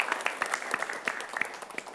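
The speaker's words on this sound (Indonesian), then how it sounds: "Kita berikan tepuk tangan untuk kita semua." A studio audience at a televised high school quiz competition gives a short round of applause, a fairly quiet patter of scattered claps lasting a couple of seconds.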